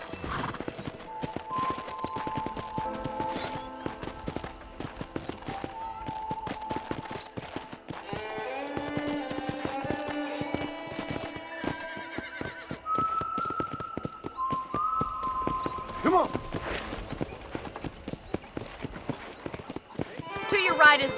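Horse hooves clip-clop at a steady riding rhythm in the Red Dead Redemption video game, with a snort or whinny, music tones, and people talking over the riding.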